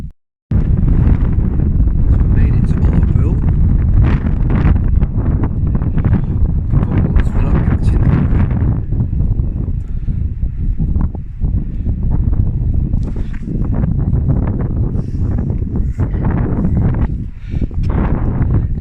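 Strong wind blows outdoors along the NC500 route in freezing weather, buffeting the microphone with a loud, continuous roar that gusts unevenly throughout.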